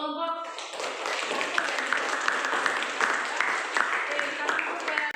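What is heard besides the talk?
class clapping for presenting groups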